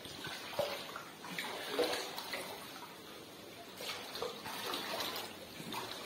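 Floodwater runs inside a house after heavy rain, a soft continuous gushing and trickling of water with faint splashes, heard at a moderate distance and fairly quietly.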